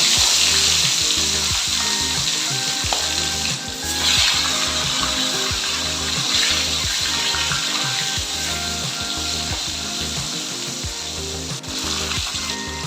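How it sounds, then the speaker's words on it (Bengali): Fresh pond-caught fish fry in hot oil in a home kitchen, giving a steady, loud, close sizzle that holds unbroken for the whole stretch, with no voices. "বাকি মাছগুলো এইভাবেই ভেজে নেব।"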